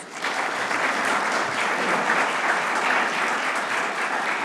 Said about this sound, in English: So if you will, again, another round of applause.